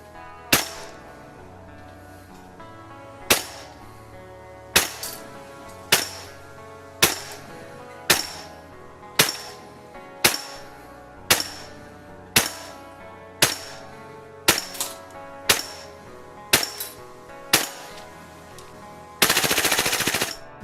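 Cyma CGS MK16 10.5-inch URG-I gas blowback airsoft rifle firing sharp, close shots spaced about a second apart, roughly fifteen in a row. The run ends in a short, dense burst of rapid fire.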